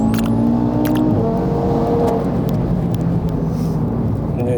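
A tuned Audi RS3 8V2 with over 700 horsepower is heard from inside, its engine loud and close at about 4000 rpm in second gear under full throttle, a rising, droning roar with a shift-like dip early on and faint rattles.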